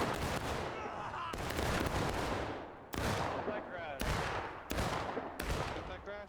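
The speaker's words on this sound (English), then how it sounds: "Instead of a volley, they're doing independent fire." Muskets crack in independent fire during a War of Rights video game battle: a ragged series of loud, separate shots, each trailing off into echo, with overlapping rumble between them.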